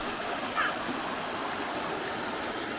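A river in the medieval village of Lagrasse, France, flowing steadily as a continuous broadband rush of water, close and even throughout with no voices.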